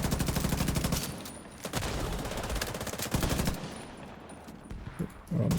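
Rapid bursts of G36 rifle fire in a first-person shooter game, loud and close, with sustained automatic strings broken by brief pauses across the whole stretch.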